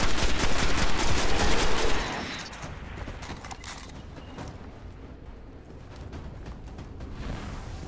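Gunfire in the video game Destiny: a dense, loud burst of rapid shots for about two seconds, then quieter scattered shots and battle noise continuing in the background.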